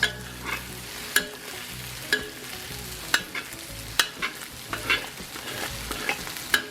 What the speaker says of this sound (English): let's get our egg cooked up and our veggies